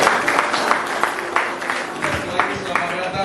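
Clapping breaks out in an Anglican church congregation during a Christmas service in Medan, Indonesia: steady, moderately loud applause from a roomful of people.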